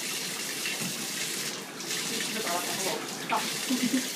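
Tap water runs steadily into a sink or tub while a dog is bathed for the first time, a continuous close splashing hiss with brief changes in flow and faint voices underneath.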